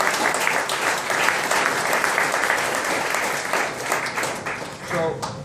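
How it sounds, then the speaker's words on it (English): An audience at a SMPTE Toronto chapter meeting claps steadily for several seconds, a broad sustained round of applause that thins slightly toward the end. "yeah, go ahead, let's clap."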